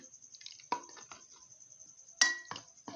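A utensil stirring koumbi sauce in a pot, with a few sparse, faint clinks and scrapes against the metal separated by quiet gaps.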